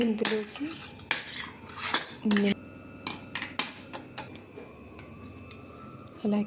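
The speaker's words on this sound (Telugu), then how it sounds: "అన్నీ ఇలా యాడ్ చేసిన తర్వాత బాగా మిక్స్ చేసుకోవాలి" A spoon clinks and scrapes against a bowl in sharp, irregular bursts with quiet gaps between, as peanut masala chaat with chilli powder is mixed, close and clear.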